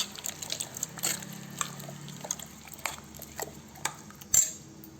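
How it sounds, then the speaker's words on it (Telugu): A spoon clinks and scrapes against a pot as salt is stirred into radish sambar, with light metallic taps and liquid sloshing scattered through the clip. "తగినంత ఉప్పు. వేసి బాగా కలిపెట్టుకోండి."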